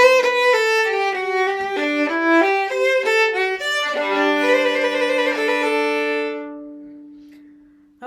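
A viola plays an orchestra audition excerpt in a steady run of bowed notes, the up-bows given a slight pulse. The playing is clear and close with no talking, and the final note rings out and fades.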